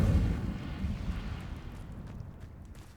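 An Incendio fire spell is cast in Hogwarts Legacy, a low whooshing burst of flame that is strongest at the start and then fades into a rumbling crackle, close and fairly soft overall.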